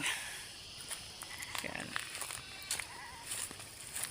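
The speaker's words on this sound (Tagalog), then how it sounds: "Bibisitahin natin ang ating kambing." Goats bleat on a farm during a rainy spell, several short cries scattered over steady background noise, with a person speaking briefly nearby.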